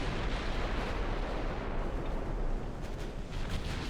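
Heavy naval gunfire from the Ultimate Admiral Dreadnoughts game: a dense, continuous rumble of artillery booms and blasts rolls on loud throughout as warships engage a light cruiser in a 1920 British battle.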